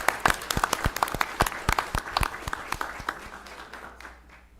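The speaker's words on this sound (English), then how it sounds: "so let's give him another round of applause" At a county commissioners' board meeting, the room gives a man another round of applause for his animal care work, steady overlapping hand clapping from a modest crowd that tapers off near the end.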